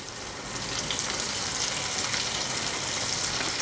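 King oyster mushroom pieces deep-frying in hot oil, a dense steady hiss and bubbling crackle that swells slightly after the first half second and stays close and even.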